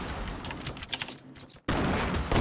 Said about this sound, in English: Whoa, some throwing grenades!